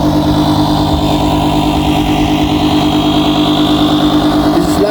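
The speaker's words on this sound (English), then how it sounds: "Now we're gonna start the engine." A boat engine idles with a steady, loud, even rumble and a constant low drone throughout, with no pauses or changes in pace.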